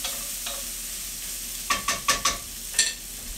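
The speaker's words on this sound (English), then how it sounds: "So also stopping to stir my veggies." Vegetables stirred in a hot pan for a Tex-Mex casserole: a soft background sizzle broken by four quick scraping strokes close together, then one more, with no talking.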